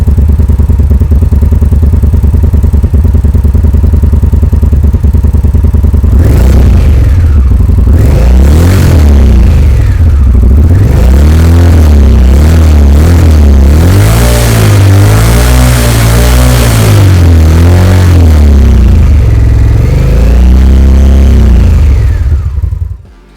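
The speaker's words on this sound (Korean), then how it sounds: "인디언 스카우터 바버의 배기음을 들어보죠" An Indian Scout Bobber motorcycle's 1133cc liquid-cooled V-twin engine idles with a deep, loping exhaust rumble, then revs up repeatedly in loud, throaty bursts before settling back down.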